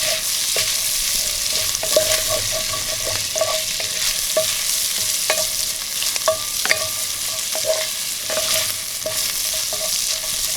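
Meat browning in a frying pan, bacon-like, with a continuous bright sizzle and frequent close utensil scrapes and taps as it is stirred, no voices.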